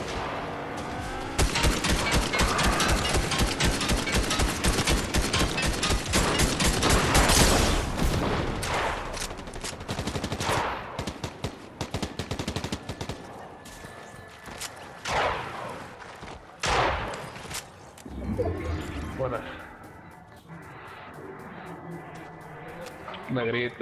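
Rapid bursts of gunfire and a loud blast as a car is blown up in Fortnite, dense and loud early on, then thinning into scattered shots and shorter bursts.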